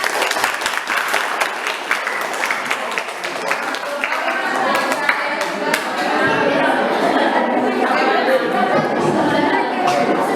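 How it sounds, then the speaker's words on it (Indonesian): A classroom of students claps together during a lively social studies discussion, a dense, steady patter of many hands that swells slightly and holds to the end, with chatter and voices mixed underneath. "Tepuk tangan."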